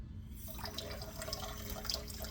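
Water running from a kitchen tap while measuring water for a recipe, a steady faint splashing stream throughout with no talk.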